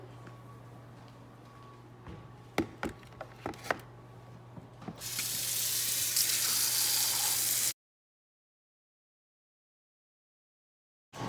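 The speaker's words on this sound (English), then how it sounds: "Now I'm going to wash and dry all produce as it says." Running water from a kitchen tap as produce is washed, a steady broadband rush lasting a few seconds after some light knocks and handling clatter, then cutting off into silence.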